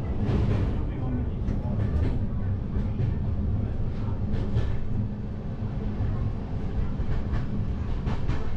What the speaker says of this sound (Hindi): ट्रेन तो बहुत स्लो से जा रही है